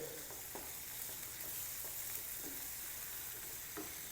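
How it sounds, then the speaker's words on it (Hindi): Dal roasting in a pan with spices and vegetables gives a steady, soft sizzle, with occasional stirring scrapes cutting through at intervals. "2 मिनट तक दाल की भुनाई कर लें"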